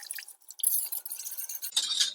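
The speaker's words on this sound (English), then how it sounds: "then we're going to add the milk" Milk poured into a cooked roux in a pot gives a brief, hissing, bubbling splash, close and moderately loud, with no talk.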